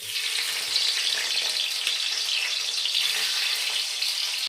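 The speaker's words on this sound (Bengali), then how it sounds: "তো এখন ভাজবো টমেটো" Tomato pieces frying in a pan, with a steady bright sizzle and crackle of hot oil, close and continuous, alone without voices.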